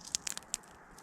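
A footstep breaks through an icy crust on garden snow, giving a few sharp, crisp crunches close up, quiet and alone.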